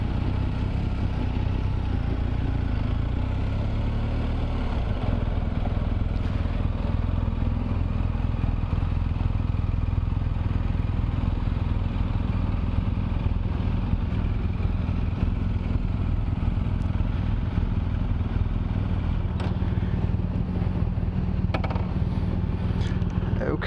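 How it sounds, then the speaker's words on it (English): A BMW motorcycle on a group club breakfast ride near Aubrey, Texas, gives a steady, continuous low engine drone with road and wind rumble throughout, and faint voices sit under the engine. "we are set here riding with Austin in the group"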